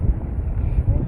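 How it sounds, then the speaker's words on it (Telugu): Strong wind buffets an outdoor microphone with steady low rumble and gusts throughout, a thick continuous roar with no clear speech over it. "ఎంత గాలి వస్తుంది అసలు."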